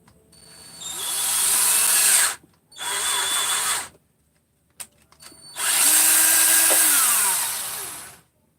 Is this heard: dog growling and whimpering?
no